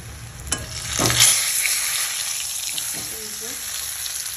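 Chicken leg pieces frying in oil in a home kitchen, a steady close sizzle with a couple of louder crackling surges near the start, then a quieter hiss.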